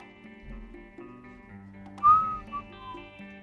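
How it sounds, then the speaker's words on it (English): A man whistles into a live microphone on a sports talk show, giving a brief, loud, rising tone followed by a shorter second note over a soft musical background. "Sorry, I didn't even mean to whistle there."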